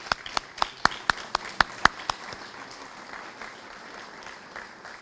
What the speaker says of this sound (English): if our counselors could please stand up and we can give them a round of applause